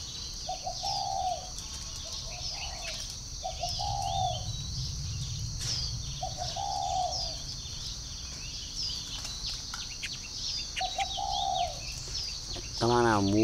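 A caged ngu sac (five-colored) bird calls in short repeated bursts of whistling notes, set against steady cooing from pigeons or doves and constant chirping background birds, loud and close throughout.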